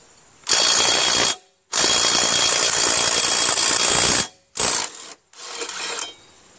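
A 12-volt brushless impact wrench hammers at a 3/4 bolt in two long loud bursts, followed by two shorter ones, all close and with no voices.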